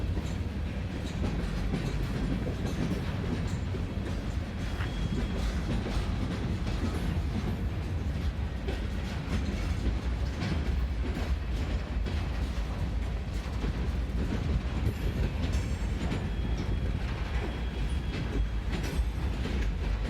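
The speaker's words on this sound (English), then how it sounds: "I got real lucky catching this coal train coming out of here" A long, empty coal train rolls past close by, a continuous loud rumble with rhythmic clacking of wheels over rail joints and occasional squeals.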